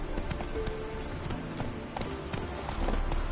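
Hoofbeats of Geralt's horse Roach galloping in the video game Witcher 3, a quick steady clip-clop rhythm under game music and ambience, close and moderately loud.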